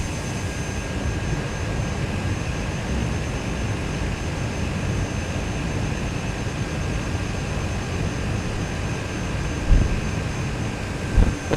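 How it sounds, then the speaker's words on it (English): A small plane in a bush-flying video game taxis over rough terrain in Bhutan, giving a steady droning engine with broad rumbling noise throughout, loud and constant, with a couple of brief thumps near the end. "Let's do a little off-terrain ride with this little plane."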